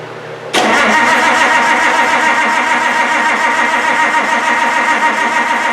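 A Farmall 560 diesel tractor, being worked on after a head gasket job, cranks over after a brief quiet moment, then its starter and engine grind on loud and continuous at close range.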